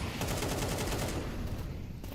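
Rapid bursts of automatic gunfire as a full magazine is emptied in Counter-Strike, dense and loud across the whole stretch, then tapering slightly at the end.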